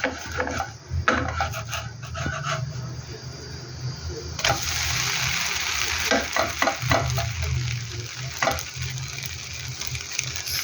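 Food frying in a pan being flipped with a spatula: a steady sizzle that jumps louder midway, with scraping and knocking clatters and a voice talking briefly in the background.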